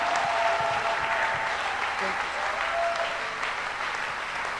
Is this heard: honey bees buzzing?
no